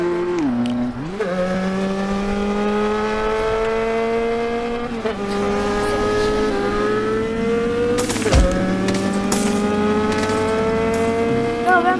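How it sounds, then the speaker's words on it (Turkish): Video game car engine droning steadily throughout, with rising and falling pitch as it accelerates and shifts, plus a brief tire squeal or bump near the end; no talking. "Arabam çalıyor."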